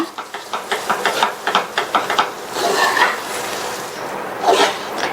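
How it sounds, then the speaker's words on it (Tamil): A spoon mixes mashed potato into a snack stuffing in a pan, first with a quick run of rhythmic taps against the pan, then a steadier close scraping and stirring sound. "இப்போ மசிச்சு வச்ச உருளைக்கிழங்க சேர்த்தாச்சு. நல்லா மிக்ஸ் பண்ணி விட்டுருங்க."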